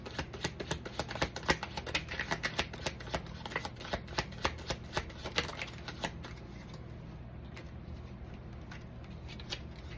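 Tarot cards being shuffled by hand in a series of quick, crisp riffling flicks for about six seconds, then fading to a quiet room with soft background hiss.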